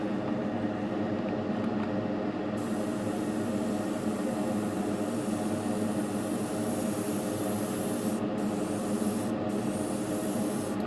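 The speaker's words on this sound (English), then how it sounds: "Bit of a test spray." An airbrush gives a test spray of paint on a Trumpeter Bf109K-4 scale model, a steady close hiss that runs continuously, with a few brief breaks near the end.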